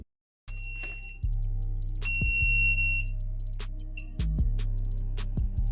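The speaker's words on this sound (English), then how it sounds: "You do have the alarm on the smart remote." A Sofabaton X1S smart remote sounds its find-remote alarm: a loud, close electronic beeping tone that pulses in repeated bursts after a brief silence, carrying on steadily with no voices.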